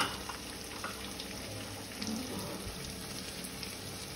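A paste of ground coriander and cumin masala sautéing in a pan, giving a soft, steady sizzle with light stirring scrapes, faint and close, with no talk.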